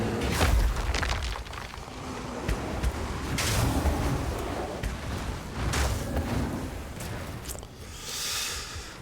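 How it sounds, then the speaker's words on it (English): Booming explosions from Path of Exile 2 play as a Druid bear shaman or Stormweaver sorceress, heavy rumbling blasts with whooshing bursts and crackling debris layered in a dense, continuous game mix. "But I like pretty explosions."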